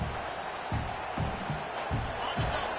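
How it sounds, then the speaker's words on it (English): A stadium crowd roars in a steady, dense wash of cheering for the defense at a football game, loud and continuous, with periodic low rumbling swells that sound like stomping shaking the structure. "Listen to this crowd just shaking the girders of this place trying to help their defense"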